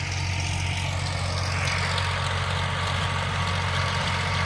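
A tractor working a rotavator in a farm field at night gives a steady, continuous low engine rumble with a dense broadband churn, unbroken and moderately loud, with no voices.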